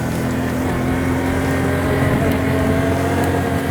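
A 2020 Can-Am Outlander 570 ATV engine drones steadily while riding, a loud, continuous motor hum with a low rumble that holds an even pitch throughout, with no voices over it.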